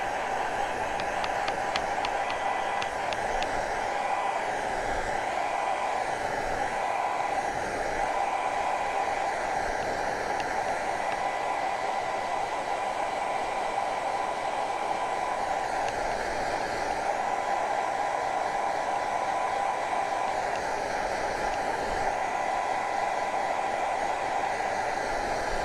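A hair dryer runs continuously at close range, drying snow off something, giving a steady loud whooshing hiss with no pauses throughout.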